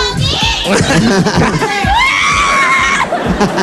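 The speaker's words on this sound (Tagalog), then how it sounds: "Ayan, tili ng tili." A young woman contestant on a Filipino show shrieks excitedly, loud rising squeals repeated over a few seconds, mixed with chatter and laughter from the people around her.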